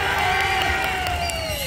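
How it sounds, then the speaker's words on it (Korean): Festival crowd at the closing-ceremony stage of the Muju Firefly Festival cheering and shouting steadily, with children's high voices and whoops over a continuous roar; clapping is not distinct within the sustained, loud crowd noise. "박수도 많이 쳐주시고 함성도 많이 많이 질러주세요"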